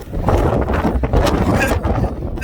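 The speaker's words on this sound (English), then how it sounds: "It's really windy." Strong blizzard wind buffets the microphone during a snowy jog along a road, a loud continuous roar with gusty surges and no pauses.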